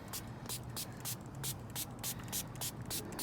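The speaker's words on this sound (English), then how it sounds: "just give it a good spray." A spray bottle of hydrogen peroxide and water is squirted repeatedly onto a cactus, a fast series of about a dozen short hissing bursts at a steady rhythm, close and clear.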